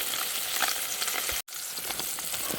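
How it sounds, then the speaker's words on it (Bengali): Fish fries in hot oil with a loud, continuous sizzle and crackle that drops out for a moment midway. "ভালো করে মাছগুলো ভেজে নিতে হবে"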